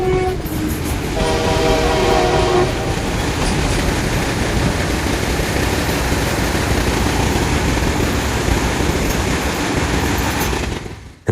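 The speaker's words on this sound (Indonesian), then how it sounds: "kereta api." Approaching train sounding a loud horn in a few blasts near the start, then a rumbling, clattering pass of rail cars that stays strong and steady before cutting off.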